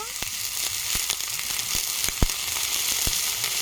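Garlic and ginger frying in a pan with browned onion, a continuous close sizzle punctuated by sharp spatula clicks and taps at irregular intervals.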